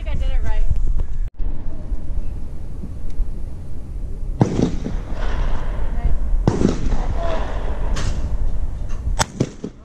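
Shotgun blasts ring out during skeet and trap shooting practice, several sharp reports spread across the clip, loud and close, with people talking in between the shots.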